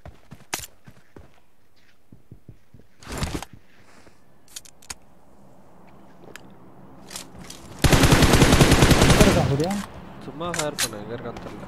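Video game gunfire, heard as scattered single shots and short bursts early on, then a loud, sustained automatic burst of about two seconds, followed by a few more sharp shots and faint talk.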